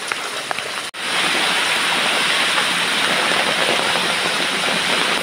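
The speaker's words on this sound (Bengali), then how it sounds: "কি জোরে বৃষ্টি হচ্ছে দেখো।" Heavy monsoon rain pours down on a house yard in a dense, steady roar that fills the whole clip, briefly dipping near the start before resuming at full force.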